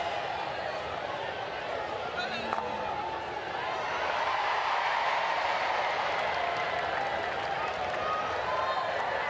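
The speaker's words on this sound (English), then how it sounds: "Crowd trying to do their bit, revving up the atmosphere with a Mexican wave." At a women's rugby match between England and Korea, a stadium crowd does a Mexican wave, its cheering a broad, steady roar that swells midway and stays loud, with a commentator talking over it.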